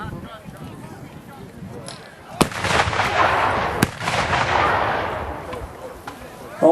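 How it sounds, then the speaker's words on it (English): Civil War reenactment artillery cannons firing outdoors, two sharp loud booms a little over a second apart, each followed by a long rumbling roll, with crowd and voices faint underneath. "Now let's watch some of the artillery as they fire."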